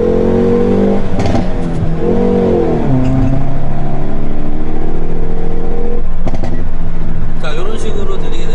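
A Hyundai Veloster N engine idles loudly and revs in bursts, with sharp popcorn-exhaust crackles and pops between revs, close up and continuous.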